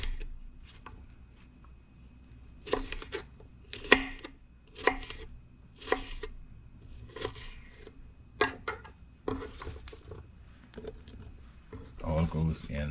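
A knife slicing a cucumber on a board for pickling, heard as repeated bursts of quick chopping strokes separated by short pauses, close and fairly quiet.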